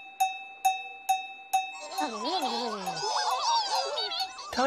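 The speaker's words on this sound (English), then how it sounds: "The home time bell." In a children's television show, four evenly spaced, ringing bell strikes sound the home time bell, followed by a chorus of children's voices chattering and singing.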